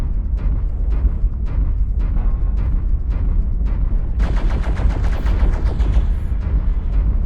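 Video game gunfire strikes near the player's feet: a string of sharp separate shots, then a rapid, loud automatic burst of closely packed cracks.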